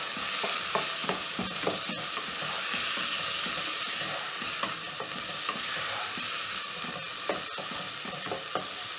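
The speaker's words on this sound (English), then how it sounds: "So to my pot, I'm going to add in 2 diced tomatoes." Diced tomatoes hiss and sizzle in a hot pot with ginger, while a utensil scrapes and knocks against the sides in irregular strokes, close and fairly quiet, with no talking.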